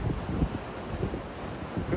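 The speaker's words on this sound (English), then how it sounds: "Look at the waves, all the water spraying off." Strong wind buffets the microphone at the seafront in Tywyn, Wales, where the sea is rough and spray blows off the waves, a dense, steady roar with no voices.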